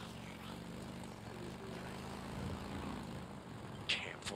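A helicopter in the video game Days Gone drones steadily with a low rotor and engine rumble, fairly faint and continuous, with a brief sharper noise near the end.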